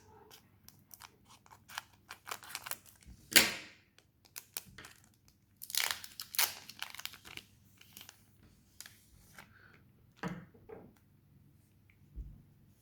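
Scissors snip and crinkle open a Pokémon trading card booster pack from a Legendary Heartbeat box, with a few sharp close cuts and plastic rustles spread out between quiet pauses.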